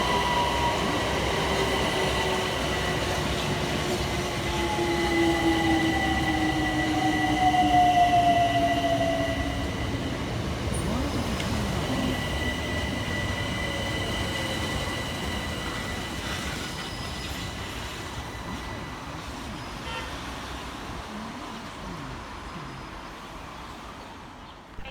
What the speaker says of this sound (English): Arriving next into the station is 376006 and 376002 with the 1800 Southeastern service from London Charing Cross through to Hayes.